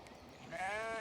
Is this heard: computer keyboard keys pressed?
no